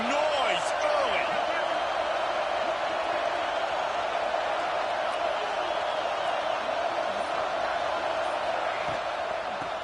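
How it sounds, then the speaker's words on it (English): A stadium crowd in a Michigan vs Ohio State college football video game roars in a steady, dense wash of noise, loud and unbroken for the whole stretch. "This crowd bringing the energy and noise early."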